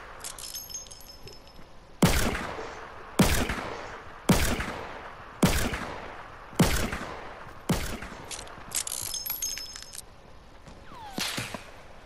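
Gunfire in the video game Fortnite comes as a steady series of sharp, loud single shots roughly once a second, followed by a few quieter, scattered shots.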